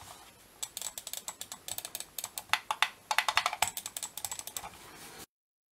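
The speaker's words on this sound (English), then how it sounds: "Now I'm going to show you how loud the clicks are for this mouse." A Logitech M190 wireless full-size ambidextrous mouse is clicked repeatedly up close, producing a quick series of about two dozen sharp plastic clicks in uneven bursts before the sound stops dead.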